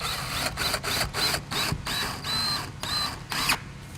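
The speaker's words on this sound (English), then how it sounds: "The best way to take care of that really is just use a piece of 1x scrap as a gauge, and then you can drive your screws in." Screws are driven into wall siding with a power drill, in repeated short whirring bursts separated by brief pauses, close and clear with no talk.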